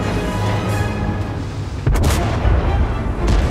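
Tank cannon fire in a tank video game, heavy booming shots over a steady low engine rumble, with a strong blast near the middle and further bursts after it, close and loud, no talk.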